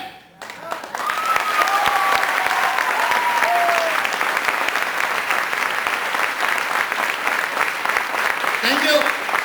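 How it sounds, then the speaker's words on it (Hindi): Sustained, dense clapping from a large audience at a leadership talk, loud and steady for about nine seconds after a brief quiet start, with a few high whistling tones mixed into the applause. "तालियां,"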